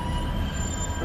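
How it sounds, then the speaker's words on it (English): Northern class 142 Pacer diesel railbus slowing to a stop, heard from inside the carriage as a steady low rumble of wheels and running gear with a faint high squeal, no talk. "You can try the stay standing as the train comes to a stop challenge"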